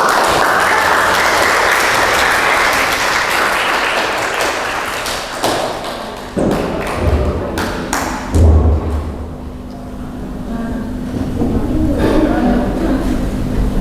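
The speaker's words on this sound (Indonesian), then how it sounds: "Mbak Siwa, kasih aplaus" A classroom group claps for a student, steady applause filling the first several seconds and then fading into scattered taps, thumps and room noise.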